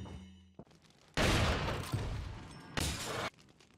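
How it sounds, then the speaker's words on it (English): Two loud blasts of gunfire in Resident Evil 4 shatter a window, each burst lasting about a second with a quieter gap between them, and no talking. "So that is how you do window shot."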